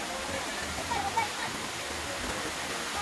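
Water rushes steadily at a cold spring, a constant close hiss like falling or flowing water that continues unbroken throughout.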